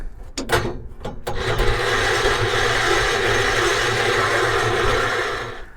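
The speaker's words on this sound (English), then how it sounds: "tried starting in third gear just to see what that speed run is, but didn't want to start" A vintage 1980s UTV engine is cranked in third gear and fails to start, giving a few sharp knocks and then a steady, loud grinding churn that runs for several seconds before cutting off.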